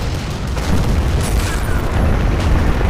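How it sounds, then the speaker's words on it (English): A powerful shell slams into a tank in a WWII tank combat game, a heavy booming impact with a sustained low rumble filling the whole stretch, loud and close with no talk. "Took a direct hit from something pretty powerful there."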